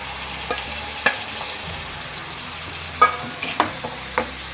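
Grated tomatoes fry with onions in a pan as paneer masala cooks, a steady close sizzle broken by several sharp scraping stirs, with no talking.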